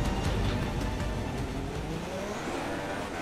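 Race car engine from the F1 2016 video game during a Grand Prix, a steady loud broadband roar with tire and rushing noise filling the short stretch, no voices over it.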